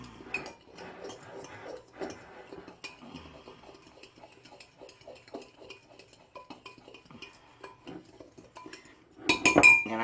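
Cinnamon sugar gets stirred in a bowl with a utensil, producing a string of quick light clinks and scrapes against the dish, with a louder clatter at the end.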